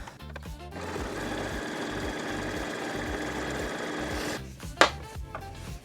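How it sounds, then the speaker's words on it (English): A sewing machine runs steadily, stitching fabric book-sleeve handles together, with a continuous mechanical whir. It stops near the end, leaving a few short clicks and a sharp knock. "we're gonna sew these together"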